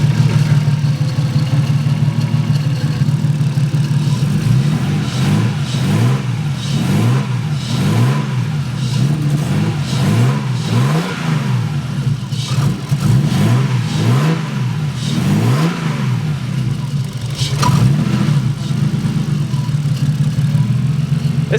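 A Nissan 240SX engine undergoing a full rebuild idles steadily, then revs repeatedly in a series of rising and falling pulls before settling back to idle.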